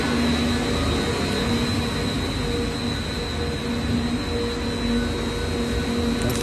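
A 1000L vacuum sigma kneader mixer with a hydraulic tilting body, on a factory dry run with its blades at maximum shaft speed, gives a loud, steady mechanical drone and a constant hum with no breaks.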